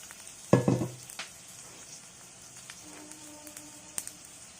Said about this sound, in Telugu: ఆయిల్ పోస్తున్నప్పుడు